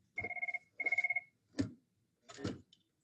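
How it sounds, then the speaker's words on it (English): Telephone bell ringing in an indoor room, two bursts of bright electronic ring trills followed by a couple of short knocks or clatters, fairly quiet. "I'm going to answer the phone."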